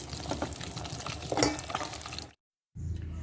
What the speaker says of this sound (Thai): ทอดปลาจ้า